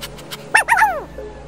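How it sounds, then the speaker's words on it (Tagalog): A newly adopted pet dog whimpering close by, a couple of soft high yips followed by a wavering, rising-and-falling whine lasting under a second. "Nay, may bago akong alagang aso."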